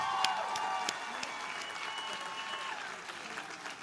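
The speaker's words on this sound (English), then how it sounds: "a well-deserved round of applause" A large audience at a college commencement ceremony applauds steadily throughout, a dense wash of clapping with a speaker's voice faintly audible underneath.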